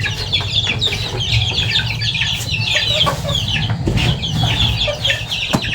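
A flock of month-and-a-half-old chicks clucks and peeps continuously before being fed, a steady chatter of many birds close by over low background hum.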